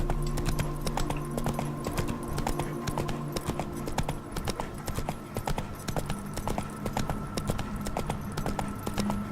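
Roach, Geralt's horse in The Witcher 3: Hearts of Stone, moves at a steady clip-clop, the hoofbeats coming close and evenly over sustained background music tones.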